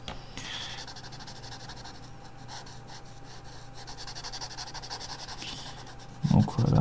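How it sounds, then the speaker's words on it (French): A felt-tip marker scratches and rubs steadily across paper while coloring a graffiti drawing in cyan, a soft close-up scraping that continues alone before a brief bump at the end. "on va colorier donc la couleur qui nous intéresse"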